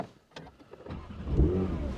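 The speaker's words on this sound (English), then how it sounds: "I'm going to get inside the car and turn the engine on" A Porsche 992.2 GT3 starting on a snowy day: a quiet cabin, then the starter catches and the engine fires into a rising, loud idle close by.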